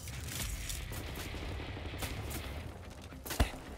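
Enemy gunfire in a Wolfenstein game, a continuous distant rattle of shots with one sharper, closer crack near the end.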